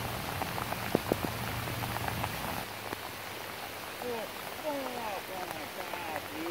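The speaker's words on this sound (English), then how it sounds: "It's raining." Rain falling steadily outdoors during a Halloween fishing outing, a soft continuous patter with faint bird chirps near the end.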